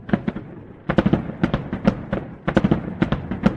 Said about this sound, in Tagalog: Paputok. Tara, manood tayo.